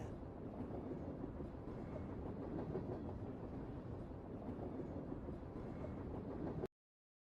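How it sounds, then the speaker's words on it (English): Train riding on rails in The Darkness Within 2 video game, a steady dense rumble and clatter of wheels on track running continuously and loud before cutting off abruptly near the end. "here I am, on a train to who knows where"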